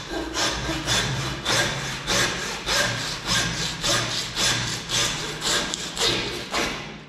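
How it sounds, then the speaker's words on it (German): A butcher's bone saw cuts through a pork leg to remove the trotter, giving steady, rhythmic back-and-forth rasping strokes, about ten in a row, close and loud, with no talking. "Nehme die Knochensäge."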